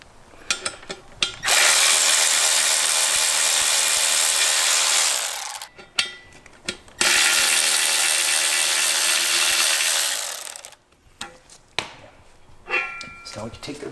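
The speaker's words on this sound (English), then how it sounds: "to help speed things along, I'm going to use an electric ratchet" Electric ratchet with an 8mm Allen bit backing out the beadlock ring screws on a KMC XD231 wheel, two loud whirring runs of about four seconds each, separated by clicks and handling noise.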